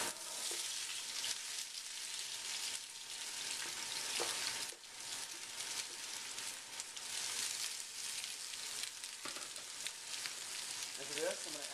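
Vegetables hit a scorching hot pan for chicken fajitas, giving a loud, dense, steady sizzle and frying hiss with occasional stirring clatter near the end.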